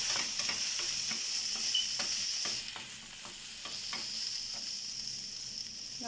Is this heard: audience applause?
no